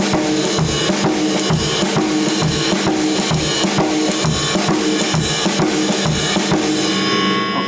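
Full drum kit playing a Reeves shuffle groove, the left hand shuffling while snare accents land on beats two and four, steady and loud with dense cymbal wash throughout, no talking.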